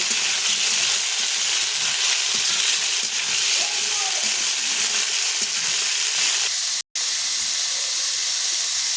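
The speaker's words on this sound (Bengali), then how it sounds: "তেলে আমি ফুলকপি দিয়ে দিয়েছি এবার দিয়ে দিচ্ছি সামান্য পরিমাণ লবণ দিয়ে ফুলকপিটাকে সুন্দর করে আমি লাল করে ভেজে নেব" Cauliflower pieces fry in hot oil with a little salt in a pan, giving a loud, steady sizzling hiss that runs almost without pause and cuts out briefly near the end.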